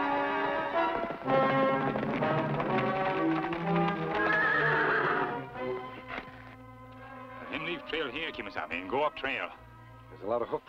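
A wagon horse with big, heavy shoes whinnies loudly over a dramatic western orchestral score, followed by a steady clip-clop of hooves; a voice is heard briefly.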